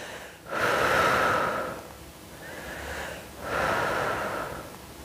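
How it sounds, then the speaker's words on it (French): Slow, deep breaths through the nose and mouth during a Pilates hamstring stretch, with two long audible exhales separated by a quieter inhale, close and unhurried, no talking. "Inspire, expire."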